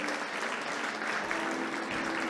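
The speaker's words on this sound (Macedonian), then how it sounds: "Уште една аплауз за сите вечерашни дами кои што продефилираа на вечерашната писта" Audience applause at a fashion show by Elena Luka: dense, steady clapping from a large crowd, holding even and loud for the full stretch.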